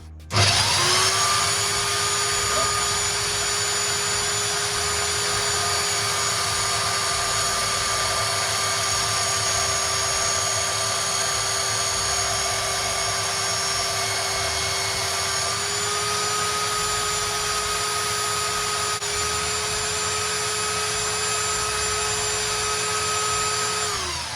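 A Parkside PBSD 900 A1 belt sander runs loud and steady, a sustained electric motor whine with a strong constant tone that holds unbroken for the whole stretch, dipping only slightly in pitch partway through.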